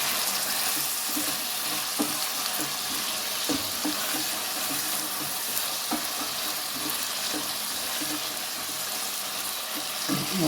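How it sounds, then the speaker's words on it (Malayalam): Washed garlic cloves frying in oil for a garlic pickle, still wet so the oil hisses and crackles steadily with occasional stirring knocks and pops, close to the pan. "കഴുകി വെച്ച വെളുത്തുള്ളിയൊക്കെ നല്ലോണം എണ്ണ കിടന്ന് വഴന്ന് വെക്കണം"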